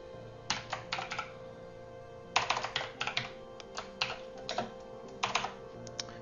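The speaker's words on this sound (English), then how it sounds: "it has been a while since I've done any real hardcore typing" Rapid, close-up typing on a computer keyboard while writing Dart code, with clustered bursts of keystrokes separated by short pauses and no voices.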